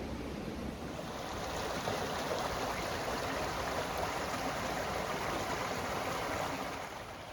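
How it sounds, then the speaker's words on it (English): Flowing water of a babbling brook in a wooded valley at Cotwall End, a steady close rushing and gurgling that continues without a break, with no voices. "Do you find there's something fascinating about flowing water, especially the brooks, the babbling brooks as they're often described?"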